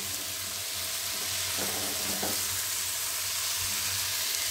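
Turnip curry fries and sizzles steadily in a pan, with a continuous close crackle and a couple of brief stirring scrapes in the middle.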